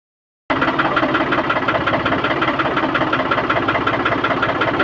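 A Swaraj 855 tractor engine runs steadily close by on a farm, a continuous loud rumble with a rhythmic knocking pulse that kicks in abruptly after a brief silence and holds without pause.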